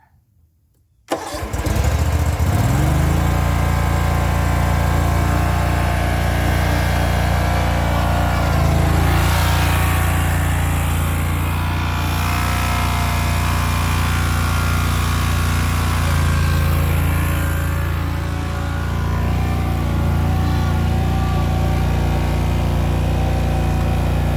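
After a moment of near silence, a Gravely 34Z zero-turn mower fires up and keeps running, its engine a loud, steady roar that varies slightly in pitch as it drives.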